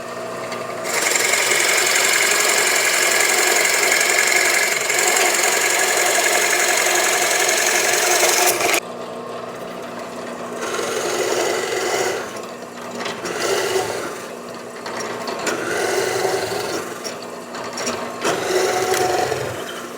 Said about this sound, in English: we're going to go over here with a couple Forstner bits and drill these holes out